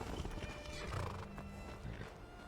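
A horse in a video game whinnies briefly amid clopping hooves, close and moderately loud, with faint background noise.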